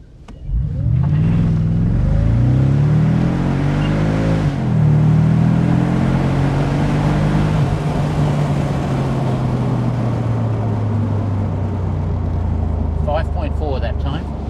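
2003 Mercedes SL55 AMG floored from a standstill to 100, a loud engine roar rising in pitch with a short dip at a shift, then holding a steady high drone, a voice breaking in near the end.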